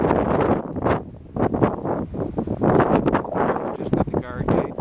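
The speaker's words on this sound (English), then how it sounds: "It's very windy now" Strong gusts buffet the microphone in loud, rumbling bursts throughout at the Erie Canal guard lock near dusk, with a voice occasionally audible beneath the roar.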